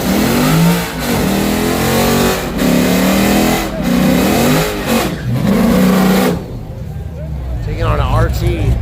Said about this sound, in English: Mustang on drag radial. New generation